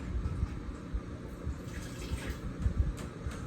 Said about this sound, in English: Fill the water above the jars, right?